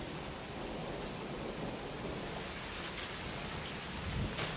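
Heavy rain hisses steadily in the video game AI: The Somnium Files while low thunder rumbles underneath, swelling into a louder crack near the end.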